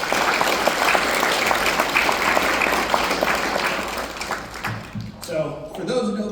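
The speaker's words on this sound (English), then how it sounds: "So give yourself a round of applause here." An audience at a Bakersfield College MESA awards ceremony applauds in a dense, steady wash of clapping that thins and breaks apart toward the end, with some crowd noise mixed in.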